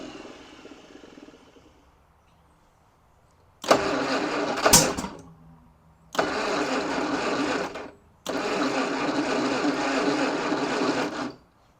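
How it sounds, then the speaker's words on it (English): An old car left sitting for 50 years cranks on a weak battery in three labored bursts, with a sharp pop during the first and short gaps between attempts. "I still don't know why it's backfiring like that."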